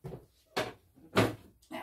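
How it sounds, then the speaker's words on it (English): A refrigerator door in a home kitchen opening and closing, heard as a few distinct close thumps and clunks separated by short pauses, no talk. "he is going to go in the refrigerator. Could you open the door, please?"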